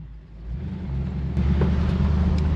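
A 1955 Chevy Tri-Five engine revs under throttle, a steady close rumble that swells and grows louder midway as gas is applied, with no one speaking.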